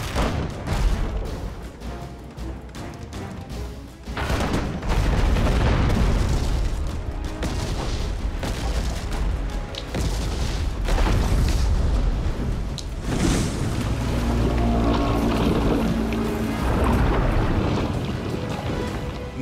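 Ship cannons firing in a naval battle in the Abandon Ship video game, a series of booming shots and rumbling blasts with splashing, wind-like noise, several reports spread across a long stretch at moderate loudness.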